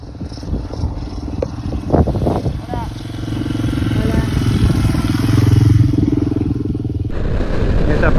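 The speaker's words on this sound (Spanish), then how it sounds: "allá en el horizonte se ve que viene una moto." A motorcycle approaches on a mountain road along the Cuesta del Portezuelo in Catamarca, its engine hum swelling gradually louder over several seconds amid wind and road noise before the sound shifts abruptly near the end.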